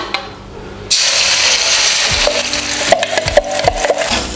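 Ground spice paste sautéing in hot oil in a wok, a steady loud sizzle that starts abruptly as the paste goes in, with scraping and stirring knocks of a spatula recurring through it.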